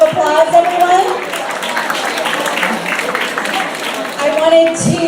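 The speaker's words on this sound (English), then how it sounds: "if you can give her a round of applause, everyone" Applause from the audience at the 2019 San Francisco Shanghai Association Lunar New Year celebration greets Hazel Lee coming to the stage, a broad wash of clapping with speech mixed in.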